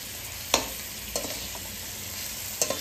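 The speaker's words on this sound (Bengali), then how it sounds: "এইটাতে মাটনটা কষানো চলছে" Mutton being stir-fried as kosha in a pan, a soft continuous sizzle broken by a few sharp scraping strokes of the spoon, close and without talk.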